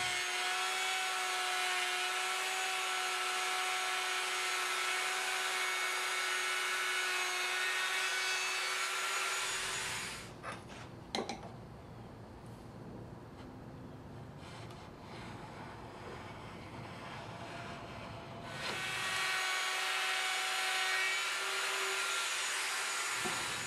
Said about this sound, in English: on our 14-inch long pieces, we're going to be cutting rabbets on both ends